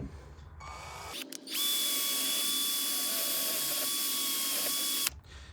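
A drill spinning a wire brush scrubs rust off an old Walden ratchet, a loud, steady high-pitched whirring grind lasting several seconds, bracketed by brief clatters and handling noise at the start and end.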